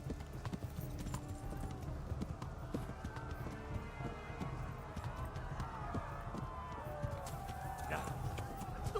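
Horse hooves clip-clop steadily in the medieval world of Kingdom Come: Deliverance, a quiet rhythmic trot under a bed of ambient game sound and occasional faint voices.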